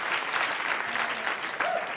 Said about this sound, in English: Keep the applause to yourself.